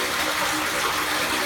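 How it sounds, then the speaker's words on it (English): Water leaking from a drain pipe in a business park green infrastructure area, a steady close gushing and splashing flow that holds even for the whole stretch, with no voices. "But I'm hearing water leaking."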